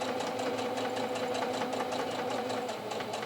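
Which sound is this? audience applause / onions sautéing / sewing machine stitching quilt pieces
sewing machine stitching quilt pieces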